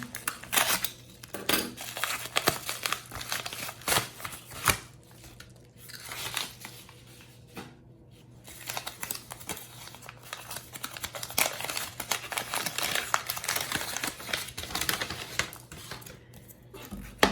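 A mail package with a graded baseball card inside is torn open at close range, a run of crinkling, tearing and rustling bursts with short pauses between them and no talk.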